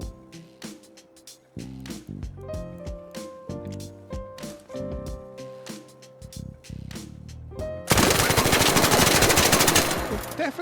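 A weapon fitted with the Kinetic Converter mod firing in Arc Raiders, rapid automatic bursts with ringing tails, ending in a loud sustained stream of continuous fire.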